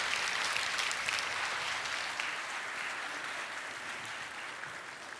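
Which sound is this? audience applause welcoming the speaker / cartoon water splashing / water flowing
audience applause welcoming the speaker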